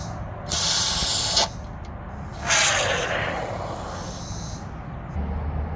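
A can of closed-cell spray foam hisses in two bursts, the first about a second long and the second tailing off more gradually, close and loud.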